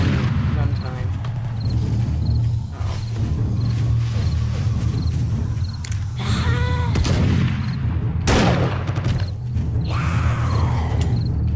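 Gunfire in the zombie survival video game 7 Days to Die: a few sharp shots and booms crack among clanking mechanical game sounds, loud and close, with a voice talking over parts of it.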